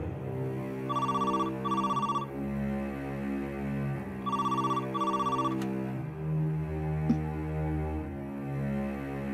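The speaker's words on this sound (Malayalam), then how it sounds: "കുറെ നേരിട്ട് ഫോൺ അടിക്കുക." A telephone rings in loud, repeated double bursts, pausing between rings, over a soft musical background in a Malayalam TV serial scene.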